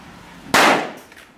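Fireworks going off outdoors during a New Year's celebration: one sharp, loud bang close by, then a hissing decay that fades over about a second. No voices are present.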